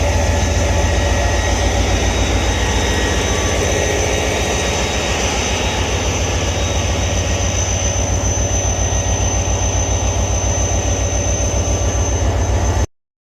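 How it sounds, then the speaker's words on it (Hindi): The 151 Up Shah Latif Express pulling into Tando Jam railway station: a loud, steady low rumble and drone of the locomotive with rhythmic pulsing underneath, sustained for over twelve seconds before cutting off abruptly. "गाड़ी पहुंच चुकी है इस वक्त टंडो जाम रेलवे स्टेशन पर।"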